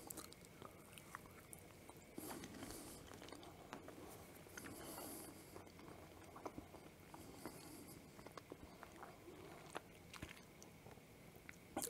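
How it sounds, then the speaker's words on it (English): Biting and chewing a homemade Zero candy bar with a white chocolate coating gives faint, steady crunching and crisp snaps up close, with no talking. "Maybe you heard that crisp snap as I bit through the white chocolate coating."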